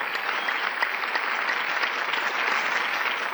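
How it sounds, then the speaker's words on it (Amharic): A warm round of applause from the audience at the final of a circus talent show, many hands clapping in a steady dense patter, loud and continuous without talk. "ለዚህ ለራሳችሁ ሞቅ ያለ ጭብጨባ"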